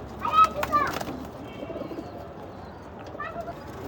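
Cheetah-patterned (chita bagha) pigeons and squabs in a home loft, with soft, faint cooing and a few brief calls early on over a low, steady background murmur.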